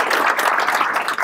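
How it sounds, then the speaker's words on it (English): Applause from an audience at an agency staff event, a dense, steady wash of many hands clapping at close range with no gaps, lasting just over a second. "please give them a big round of applause as they'll be capturing everything"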